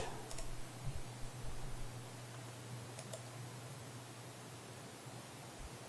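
Mouse and keyboard clicks at a computer while an event is added to a scouting group's schedule, a few sharp isolated clicks over a steady low background hum.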